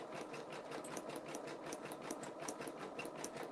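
An embroidery machine sews a basting stitch on beanies, a steady fast mechanical whir with even rapid needle ticking, fairly quiet and uninterrupted, with no talking.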